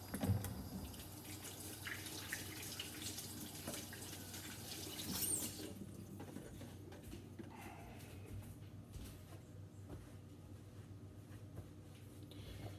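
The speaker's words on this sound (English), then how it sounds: "Let me wash my hands." Running tap water from a kitchen faucet while hands are washed during meatloaf preparation, a steady soft wash of water with faint splashing that eases after the first few seconds, with no talk.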